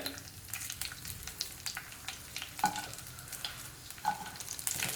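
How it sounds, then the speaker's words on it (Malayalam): Green chillies stirred as they fry in a pan for carrot thoran, a steady sizzle with scraping stir strokes and a couple of sharper clicks of the spoon against the pan, close and alone. "ഇനി ഒന്ന് ഇളക്കി കൊടുക്കാം"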